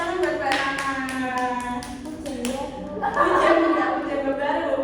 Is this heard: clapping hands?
yes